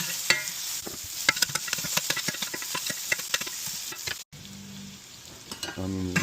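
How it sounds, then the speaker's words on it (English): Diced onions sautéing in a pan for Philly cheesesteaks at home, a steady close sizzle broken by frequent clattering stirs and scrapes, with no talking. "Now we got some onions diced up. Gonna saute them, caramelize them up."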